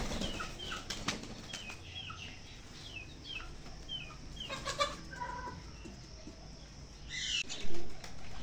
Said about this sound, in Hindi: ये कुछ कबूतर ये आए हुए हैं